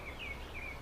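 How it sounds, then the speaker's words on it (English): A couple of faint bird chirps ring out over a soft, steady outdoor hiss of breeze through trees in a quiet countryside setting. "A few birds, trees blowing"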